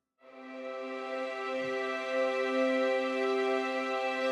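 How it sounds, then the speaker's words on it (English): A full string ensemble holds a single sustained chord at one fixed dynamic, entering quickly and ringing steadily for about four seconds with no voices. "Okay, that's the full ensemble sustains patch"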